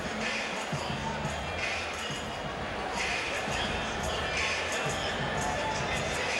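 Large crowd at a Freedom Hall boxing event in Louisville, Kentucky, for a Mike Tyson versus Danny Williams main event, a steady dense murmur with scattered low thumps throughout, under broadcast commentary.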